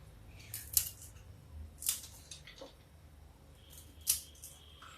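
Fox nuts (makhana) are cut into smaller pieces for a wedding-style banana chutney. Three sharp, crisp snips come at spaced intervals over a quiet background.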